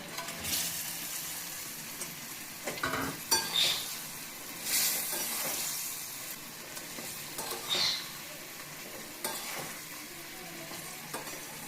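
Baby corn, capsicum and onion fry in a pan for chilli baby corn, a soft continuous sizzle broken by intermittent scraping stirs and a few light utensil clinks, close and fairly quiet.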